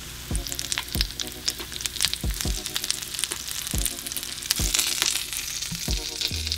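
Fish caught for a spicy Takis catch-and-cook fries in oil that may not be fully hot, giving a steady close sizzle with soft crackles and a few low thumps from the pan, with no talking.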